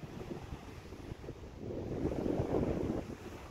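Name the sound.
wind at Winnipeg Beach, Manitoba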